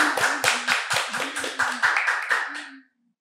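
Studio audience applause closing a Brazilian small-business tax talk show, with a run of clustered hand claps in uneven bursts that fade out after about three seconds.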